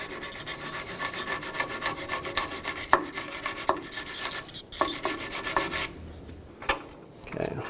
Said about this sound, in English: I'm going to start with a wire brush.